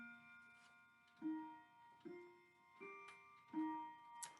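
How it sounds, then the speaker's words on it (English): An indoor clock ticks and then chimes, sounding four or five resonant strikes spaced about a second apart, each ringing out and decaying, fairly quiet and close with no speech. "There was my beautiful clock chiming for us."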